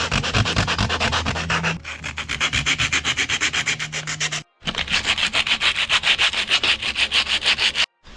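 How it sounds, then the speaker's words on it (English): Rapid back-and-forth rubbing of 240 grit sandpaper scratching the surface of BMX handlebars, a dense rhythmic rasp heard close and loud, pausing briefly twice, with no talking. "Simply grab some sandpaper, it's 240 grit,"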